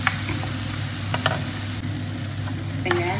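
Ingredients for beef bola bola sauté in a pan with a low steady sizzle and occasional sharp utensil clinks and scrapes, fairly quiet and close, with no voices.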